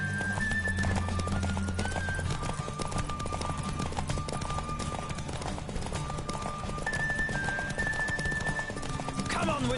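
A horse gallops hard in a race in The Witcher, a steady rapid hoofbeat rhythm, with music playing over it and a brief whinny near the end.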